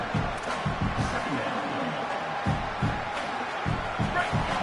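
Roaring stadium crowd in an NCAA football video game, a dense steady wash of cheering and noise with a commentator talking over it.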